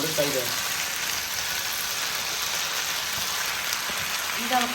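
Chicken Hakka noodles stirred and frying in a hot pan, a steady hissing sizzle throughout, close and even, with brief bits of voice at the start and end.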